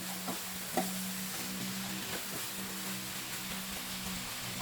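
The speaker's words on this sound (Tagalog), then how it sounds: "Ginisa ko muna sa sibuyas kamatis." Lechon belly sautéed with onion and tomato, a soft continuous sizzle with light stirring, faint and steady beneath a low hum.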